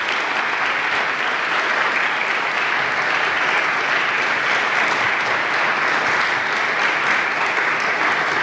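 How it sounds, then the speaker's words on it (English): Sustained, loud applause from an audience at a book event honouring Karl Besel and Charlotte Williams, an even, dense roar of clapping hands that continues steadily without pause or talk. "let's give Karl and Charlotte a wonderful round of applause"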